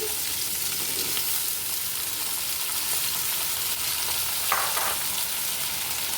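Chickpeas and chopped carrots frying in a pan for Afghan Kabuli pulao, giving a steady close sizzle with a brief stir around the middle and no talking.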